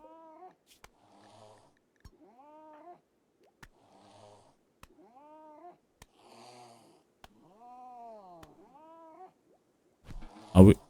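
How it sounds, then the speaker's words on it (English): Repeated short, wavering cat meows from the RimWorld video game come in a steady series with brief gaps, clear and close, with soft clicks between them and a louder noisy burst at the end. "Some cat sounds they have put into this game."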